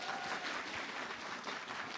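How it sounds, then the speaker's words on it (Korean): Applause from the audience at a municipal proactive-administration best-practice competition in Namyangju, a brief, moderately loud stretch of many people clapping with a slightly uneven texture. "큰 박수로 맞으시기 바랍니다."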